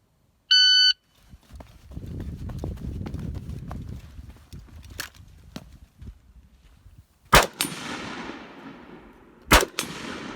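Gunshots from a prone shooting position, two sharp loud reports late in the clip, each followed by a decaying ring, after a stretch of low rumbling background and an early electronic beep.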